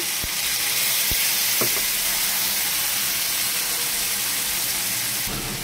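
Spice paste sizzles steadily in hot oil for a prawn do pyaza, with a constant close frying hiss and a few soft stirring knocks early on.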